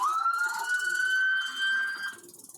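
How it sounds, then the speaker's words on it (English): A police siren wails in a single long, steady tone that fades out toward the end, sounding fairly close and with no talking over it. "sound of approaching backup sirens"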